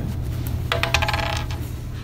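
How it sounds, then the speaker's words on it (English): Dice tossed and rolled on a hard surface, a short burst of clattering rattles lasting under a second amid quiet room hum, close and fairly loud, with no talk. "Okay, one more special roll of the dice."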